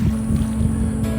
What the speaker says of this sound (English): Oh, here come the boats.